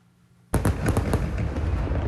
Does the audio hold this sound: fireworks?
yes